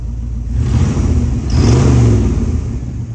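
The engine of a 1965 Rambler Marlin runs close and loud, idling and then revving up in a strong surge before easing back, with no voices.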